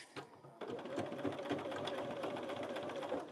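A sewing machine stitches fabric scraps, starting after a brief pause and then running as a steady, fairly faint mechanical chatter.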